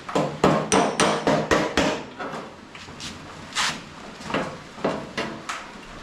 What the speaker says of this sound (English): that's the time when you want to use hammer on dolly